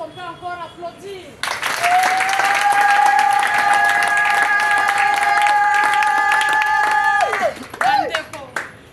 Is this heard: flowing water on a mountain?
no